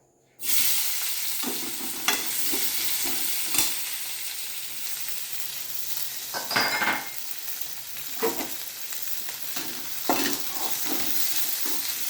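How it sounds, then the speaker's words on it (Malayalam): Onions frying in a pan for a poha (flattened rice) mixture, a loud steady sizzle broken by repeated spatula scrapes and clinks against the pan as they are stirred, with no talking. "ഇനി നമുക്കിത് ഉള്ളി ഇട്ട് കൊടുക്കാം."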